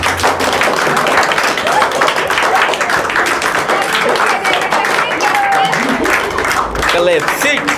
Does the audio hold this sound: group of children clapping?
yes